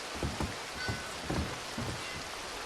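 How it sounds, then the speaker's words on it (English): Heavy rain pours down in the Red Dead Redemption 2 video game, a steady hiss with several soft, low thuds spaced through it. "It's raining cats and dogs."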